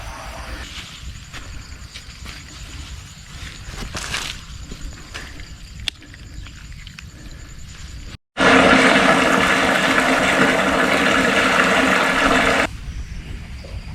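Water gushes steadily into a farm tank fed by a well pump, unfiltered, at a house in Thailand; a loud, dense rushing that starts abruptly, runs for about four seconds close by, then cuts off, with quieter ambient noise around it.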